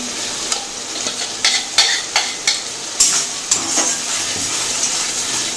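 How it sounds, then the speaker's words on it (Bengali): Masala fries in a pan before chicken goes in, a steady sizzle broken by repeated scraping stirs of a spatula, close and fairly loud. "তো মশলাটা এবার দিয়ে দিলাম, দিয়ে আরো কিছুক্ষণ কষাবো।"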